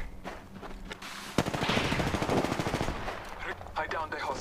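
Rapid automatic gunfire erupts in an Apex Legends arena match, a fast rattling burst after a few scattered shots, with brief impacts and game effects around it.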